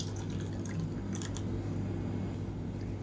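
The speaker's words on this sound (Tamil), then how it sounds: "இப்போ மிக்ஸி அலசிட்டு தண்ணி சேர்த்துக்கலாம்" Water trickles and drips into a mixer grinder jar being rinsed out in a home kitchen after grinding chutney, faint and close over a low steady hum, with no voices.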